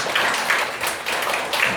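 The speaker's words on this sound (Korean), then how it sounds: "우리 형제한테 격려 박수 부탁드립니다" An audience at a church debate forum gives encouraging applause to a young participant: a steady wash of many hands clapping at moderate volume, without talk, lasting under two seconds.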